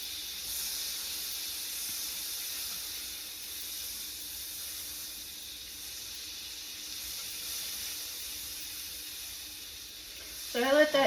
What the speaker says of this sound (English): you want your butter nice and sizzly